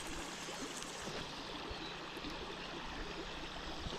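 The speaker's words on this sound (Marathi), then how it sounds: "त्या ओढ्यामध्ये पाणी आले हे बघा" Steady rushing and babbling of water flowing in a small village stream, continuous and fairly close, with no voices.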